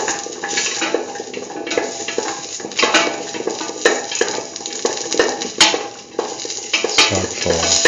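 Beetroot semolina is sautéed in a pan, with a spoon scraping and stirring in a constant rhythmic patter over a low sizzle, close and steady throughout.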